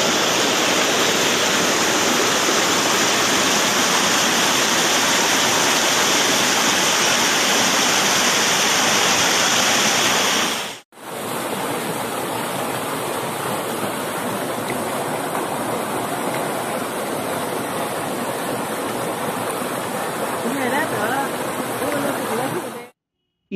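Stream water rushes steadily and loudly near a waterfall at Bhatwada, Jamboti, in Khanapur Taluka. The dense roar is continuous apart from a brief cut midway.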